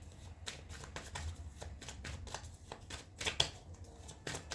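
Tarot cards being shuffled to draw one last card, a steady rustling riffle of card edges slapping together in quick irregular bursts, close and continuous throughout with no talking.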